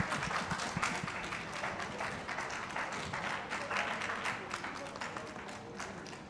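Audience at a live Odia community event claps together, a quieter, somewhat distant patter of many hands that holds steady, with voices murmuring underneath.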